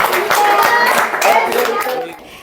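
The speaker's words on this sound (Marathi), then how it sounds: "सुनीतासाठी जोरात टाळ्या द्या" Picnic group at Girivan resort applauds for Sunita, a brief burst of close, dense clapping that fades out near the end, with voices mixed in.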